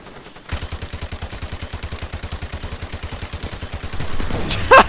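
Rapid automatic gunfire in Call of Duty 4 Remastered, a long, even burst of close shots at a fast, regular rate, ending with a louder blast and a short cry.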